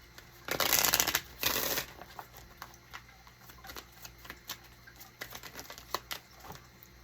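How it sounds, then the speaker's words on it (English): Cards are drawn from a deck, with a brisk riffling burst followed by softer scattered flicks and taps of cards, close and quiet, with no talking. "We're going to get 2 more cards out of this deck."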